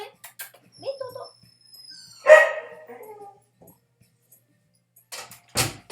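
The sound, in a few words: dogs barking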